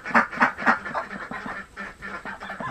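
Ducks quack loudly and close by in quick repeated bursts, a few calls overlapping beside a clutch of newly hatched ducklings.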